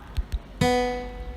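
The second string of a guitar is plucked once for a tuner app, preceded by two faint taps, then rings with a clear sustained tone that gradually fades.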